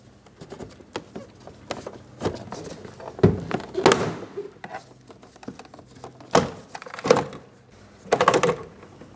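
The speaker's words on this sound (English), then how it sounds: "I'm using my plastic trim tool." Irregular plastic clicks, pops and scraping taps as a plastic trim tool levers a Pontiac car door panel loose, close by, with some louder snaps spaced across the clip.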